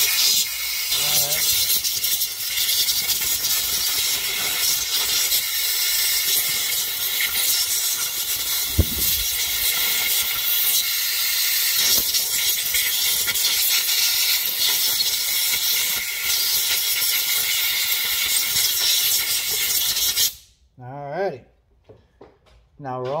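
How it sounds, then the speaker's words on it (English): An air compressor's hose blasts compressed air through a Craftsman snowblower's parts in a loud, sustained hiss lasting about twenty seconds, then stops, leaving a few brief knocks and handling sounds. "let's get some compressed air going, blow some of this out"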